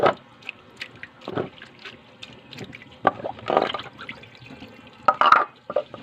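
Intermittent splashes and trickles of running water washing fish, with short bursts and drips between quieter pauses, close by and without speech.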